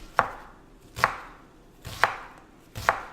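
A knife scoring an onion on a cutting board, four crisp, evenly spaced chops about a second apart, close and distinct with quiet pauses between.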